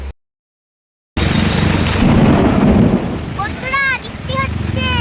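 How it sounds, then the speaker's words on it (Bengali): Heavy rain pouring at a market, a dense loud hiss after a brief silence, with a rumble of thunder mixed in and a voice speaking briefly near the end. "খুবই বৃষ্টি স্টার্ট হয়ে গেছে।"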